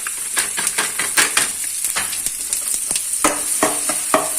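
Puliyogare spice powder fries in hot oil as it is stirred, giving a steady loud sizzle broken by quick, irregular scraping strokes of the spoon, with no voices.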